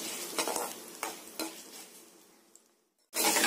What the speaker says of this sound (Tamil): ரொம்ப கருக விடாமல் சிகப்பாகிற வரைக்கும் நல்லா வறுத்து எடுத்துக்கோங்க.